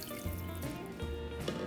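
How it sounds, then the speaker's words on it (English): Water running into a very large stock pot holding bones, a steady close splashing pour with low gurgling, no talking. "In a very large stock pot, you have your bones in it, and you're gonna add some water"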